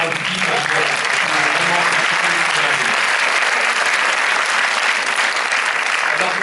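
Sustained applause from a film premiere audience at a theatre presentation by the cast and crew, a loud, dense wall of clapping that holds steady throughout, with a few voices mixed in early on.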